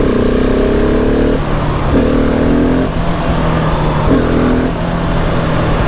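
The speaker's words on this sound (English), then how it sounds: "let's try a third gear power wheelie." A 2020 Husqvarna 701 SM motorcycle accelerates hard for a third-gear wheelie, its engine note climbing in rising pitch sweeps broken by brief shift dips, loud and close under wind noise.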